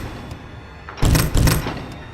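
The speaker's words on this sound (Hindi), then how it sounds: "डोर हैंडल धीरे धीरे हिलने लगा। लेफ्ट राइट, जैसे बाहर खड़ा इंसान अंदर आने की कोशिश कर रहा हो।" A hostel room door shaking as if being forced, with two loud rattling thumps close by following a faint click at the handle.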